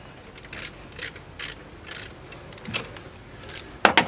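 Wrench clicks as a jam nut is loosened during water pump replacement on a 2009 Toyota Corolla, a series of close, light ratcheting ticks about every half second, ending in a sharper metallic clack.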